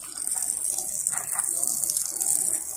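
A pressure washer on an extension pole sprays water along a gutter as a rinse, giving a steady hissing gush that holds throughout with no one speaking.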